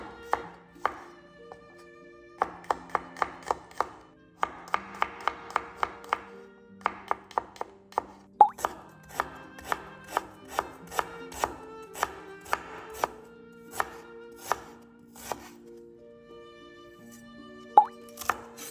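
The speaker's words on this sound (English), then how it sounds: "Slice the garlic and ginger." A knife slices garlic and ginger on a cutting board with sharp, crisp taps, first in quick bursts and then in a steady rhythm of single cuts, close and clear with no talk.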